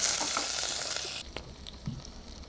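Curry leaves and coriander hit hot oil with a bright crackling sizzle that drops to a quieter fry halfway through, close up and without speech.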